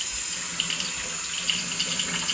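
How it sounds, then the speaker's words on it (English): A kitchen sink tap runs steadily as hands are washed under it, giving a close, continuous hiss of flowing water with faint splashing and no talk. "Let me quickly wash my hands here again."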